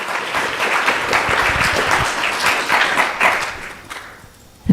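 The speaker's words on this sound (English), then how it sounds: "Please give Prabhu a nice round of applause" Audience applause after a class at a Hare Krishna temple, a steady wash of many hands clapping close by that swells in places and fades out near the end.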